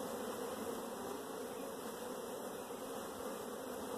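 Honeybees on an open hive's brood frame during an inspection, a dense continuous buzzing drone, close and steady with no break.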